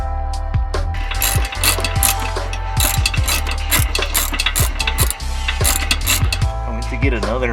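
Ratchet wrench clicking in quick, uneven bursts during a cold air intake install on a 2000 Honda Civic, close and steady with a constant hum underneath and faint voices nearby.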